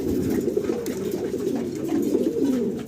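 Red King pigeons coo in a steady run of soft, low, rolling calls, close by and continuous, with no voices over them.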